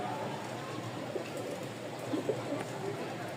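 Rajshahi flying pigeons coo softly in short, low repeated calls under a steady wash of background noise, heard at close range.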